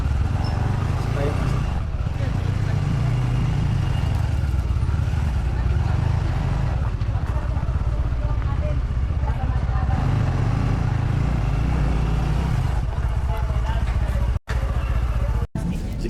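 A motorcycle engine idles and rumbles steadily outdoors at a farm resort, a low continuous drone under scattered talk and background voices, with a couple of brief dropouts near the end.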